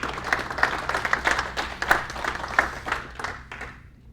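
A small audience at a geomatics user group meeting gives a hand of applause: a handful of distinct claps rising into a modest, uneven patter that thins out and fades within about four seconds.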